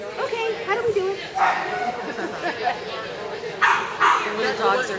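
Small dogs at a weight pull event barking, yipping and whimpering in short bursts amid crowd chatter and people talking nearby.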